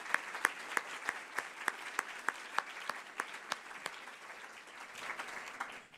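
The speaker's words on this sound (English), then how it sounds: "Please give all of our sponsors a round of applause for their support today." An audience at a gun-safety advocacy event applauds its sponsors, starting with a few distinct, evenly spaced loud claps before blending into a softer, fuller round of applause that fades out.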